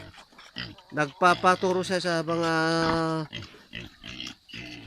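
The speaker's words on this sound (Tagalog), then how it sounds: "Ito yung mga baboy ng aking bayaw." Pigs kept on a brother-in-law's farm squeal and grunt loudly in several close bursts while someone talks over them.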